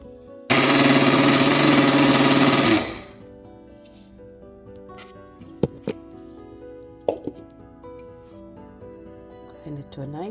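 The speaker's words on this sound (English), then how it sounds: "Grind it to a nice smooth powder" A kitchen grinder whirs loudly for about two seconds, blending dry spices and asafoetida into sambar powder, then stops; a few soft knocks and handling sounds follow.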